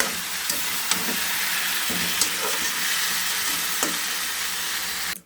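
Fish and bori dropped into hot oil in a pan alongside potato and eggplant, giving a steady sizzle and frying hiss with occasional sharper pops and a few stirring clinks.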